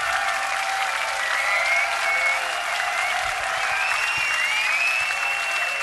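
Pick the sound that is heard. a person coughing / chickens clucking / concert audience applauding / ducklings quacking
concert audience applauding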